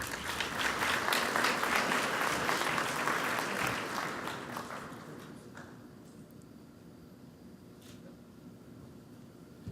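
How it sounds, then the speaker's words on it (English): Sustained audience applause fills a large Academy of Management general session hall, loud and dense at first, then thinning and fading over the final seconds into scattered claps and room noise. "one big round of applause for these essential partners"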